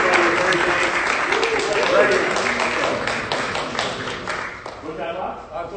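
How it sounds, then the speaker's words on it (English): Game show studio audience giving a round of applause, loud and continuous clapping with cheering voices over it, tapering slightly toward the end. "Give them a round of applause, everybody."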